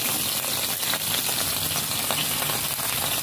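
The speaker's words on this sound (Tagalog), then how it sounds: "So, pag mainit na, we can put the onion and garlic." Chopped onion and garlic sizzling loudly in hot oil, a steady dense crackle and hiss with no pauses or voices.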